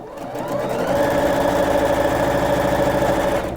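Sewing machine stitching a fabric hair scrunchy, a steady mechanical whirring hum that starts up, runs evenly at a constant speed and then stops, close and alone with no talk.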